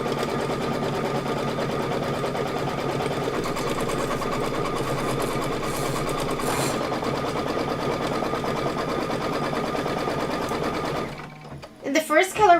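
A sewing machine runs steadily at close range, stitching a quilting pattern on an appliqué pillow, with a dense continuous motor whir and needle rattle that stops near the end, followed by a few brief handling noises.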